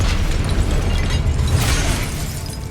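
Spell blasts and explosions erupt in the video game Hogwarts Legacy, a dense, loud, continuous rumble of bursts and booms with no gaps.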